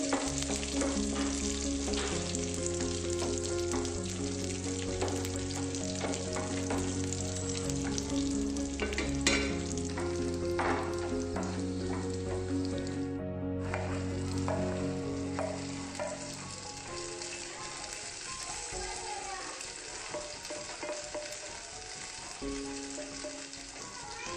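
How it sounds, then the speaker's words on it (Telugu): Cashews and raisins fry in a pan for semiya payasam with a continuous sizzle and occasional stirring scrapes, steady and close throughout, alongside a low tonal hum; no one speaks. "కాజు హాఫ్ వేగిన తర్వాత మనం కిస్మిస్ని యాడ్ చేసుకోవాలండి, ఎందుకంటే కిస్మిస్ త్వరగా మనకి ఫ్రై అయిపోతాయి."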